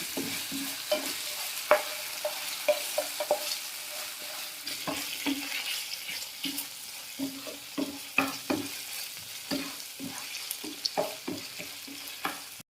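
Schezwan sauce bubbling in oil in a pan, with a soft continuous sizzle broken by frequent scraping and tapping of a spoon stirring against the pan, close and fairly quiet, with no voices.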